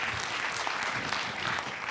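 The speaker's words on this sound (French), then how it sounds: "ça a plu à quelqu'un qui a essayé de vous applaudir" Applause rises from an audience at a keynote session, a steady dense patter of many hands clapping at moderate distance, continuing without talk for the whole stretch.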